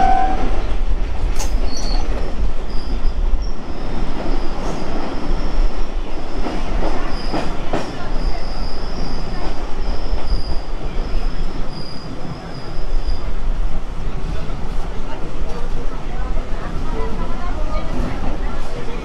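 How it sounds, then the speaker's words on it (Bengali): Passenger train arriving at Dum Dum Junction station, heard from on board as a loud continuous rumble with wheel squeal, rhythmic clatter and metallic clanks, with people talking over it. "ট্রেন চলে এলো দমদম জংশন"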